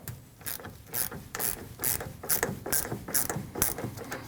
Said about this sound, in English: It is held on by a 10mm nut. Loosen the nut.